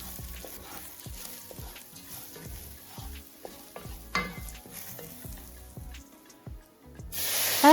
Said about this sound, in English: Stir well to combine.